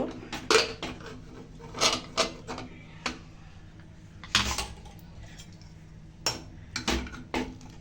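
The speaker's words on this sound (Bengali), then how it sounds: "এবার আমি প্রেশার কুকারের ঢাকনাটা খুলব" Pressure cooker lid being opened after cooking dalia, a series of close metallic clanks, clicks and scrapes at irregular intervals, with no talk.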